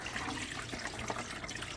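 Dirty water from an ionic detox foot bath pours out in a continuous splashing rush at close range, with no talking over it.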